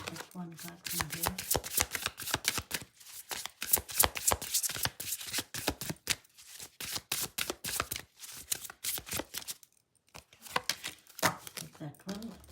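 Tarot cards riffle and slap in quick rapid bursts, close and crisp, with short pauses between shuffles and single cards being drawn from a pile.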